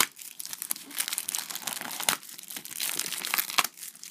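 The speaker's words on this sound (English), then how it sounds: "so I'm just going to rip it" Glued cardboard of a Topps Match Attax Champions League 16/17 UK multipack being ripped open: close, loud crinkling and tearing in quick irregular bursts, with no voices.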